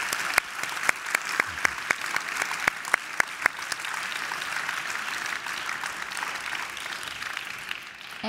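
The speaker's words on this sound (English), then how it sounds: "A big round of applause" Audience applause following a talk by Nobel laureate Jean Tirole on the political economy of climate change, with a steady wash of clapping from a full room, a few sharper individual claps standing out near the start, sustained alone with no speech.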